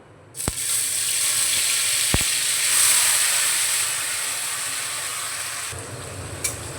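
A loud burst of sizzling as blended spice paste hits hot oil, a steady hiss that slowly fades, with a couple of sharp clicks.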